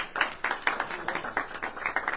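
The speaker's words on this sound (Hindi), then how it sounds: "तालियों से स्वागत कीजिए।" A crowd at an Urdu school gathering claps in welcome for a Muharram akhara troupe, with irregular bursts of fairly soft hand claps following one another in a loose rhythm and no speech.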